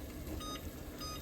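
A kitchen timer beeps faintly in a few short tones, half buried under the steady bubbling and hiss of a pot of muscadine jelly at a rolling boil on the stove.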